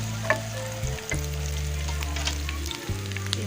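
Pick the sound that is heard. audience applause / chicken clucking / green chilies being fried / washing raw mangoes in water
green chilies being fried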